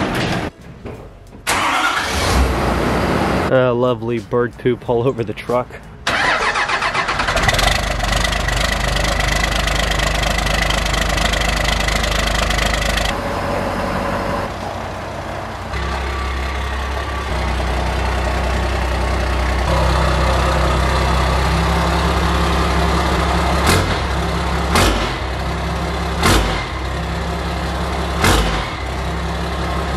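A truck engine cranks and catches, then settles into a loud, rough mid-pitched idle with steady rumble, a few sharp knocks and clicks later on, and a brief spoken remark near the start.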